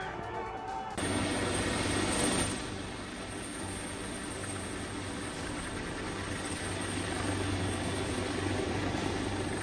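A steady helicopter drone with a low throbbing rotor hum, loud and continuous, swelling briefly early on and then holding level, during violent protests in Nepal.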